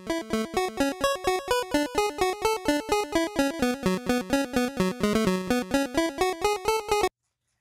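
A second NES chiptune channel plays its Venture Kid melody on its own, a fast, evenly pulsed run of bright buzzy square-wave notes that stops abruptly at the end.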